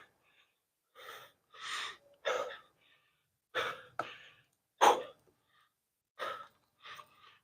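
Heavy, forceful breaths during a workout come in separate loud gasps and exhales with short silences between them, close to the microphone and with no talk.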